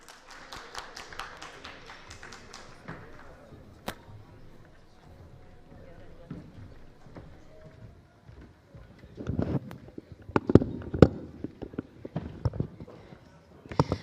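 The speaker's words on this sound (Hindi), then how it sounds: "प्लीज एक बार जोरदार तालियां।" Audience at a news forum stage event breaking into applause for a speaker, scattered claps early that fade, then a louder burst of sharp, close clapping near the end.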